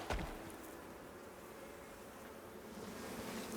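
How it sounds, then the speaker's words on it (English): Bees buzz steadily in the survival video game Icarus, a faint continuous drone with a brief sharper burst at the start. "We got some more bees. Bees respawned."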